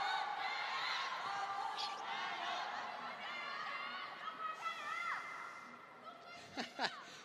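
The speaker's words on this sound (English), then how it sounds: "Players having to wait to hear who wins the cheering argument in the crowd." Table tennis crowd at a Ma Long versus Fan Zhendong match, rival fans cheering and chattering in a busy arena din, with scattered shouts and whoops rising near the end.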